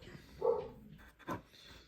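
Two short barks from a dog at moderate distance, separated by a pause, over a quiet background.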